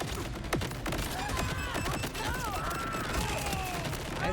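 Video game gunfire, a continuous rattle of rapid shots with scattered sharper cracks, loud and dense throughout with a voice briefly audible over it.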